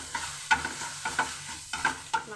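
Idli shakshuka with sambar masala stirred in a pan, four rhythmic scraping strokes of a spoon against the pan over a steady sizzle, close and fairly loud, no talking.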